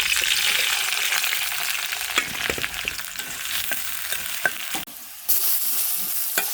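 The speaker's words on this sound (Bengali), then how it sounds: "একটু দিয়ে দিলাম রসুন। তরকারিটা অলমোস্ট হয়ে গেছে।" Curry is stirred and fried in a pan, a loud, close sizzle broken by scraping spoon strokes and occasional knocks, with one brief dip in the hiss before it resumes.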